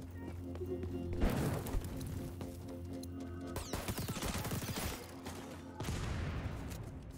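Rapid automatic gunfire from a Fennec submachine gun with extended magazine in the video game XDefiant crackles continuously and loudly in bursts, with short pauses and crashes between sustained volleys.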